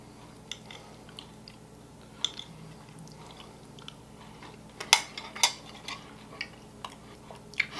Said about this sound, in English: I'm going to cut off a little piece here.